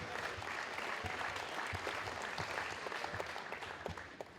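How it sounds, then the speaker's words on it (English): Steady applause from an audience at a Mid-Michigan College basketball event as a player is introduced, dense clapping filling the room throughout, fairly distant with light crowd murmur. "A round of applause for Caleb Kuiper."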